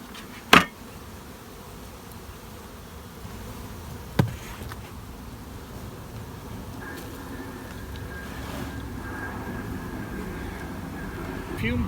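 Honey bees buzz in a full hive super, a soft continuous hum under low background noise, with two sharp clicks early and a faint tone drifting in later.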